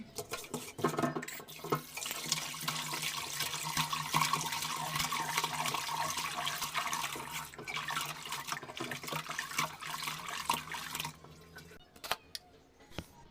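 Fish being rinsed under a running tap in a clay pot, with steady splashing water noise for most of the clip that stops near the end; no one speaks.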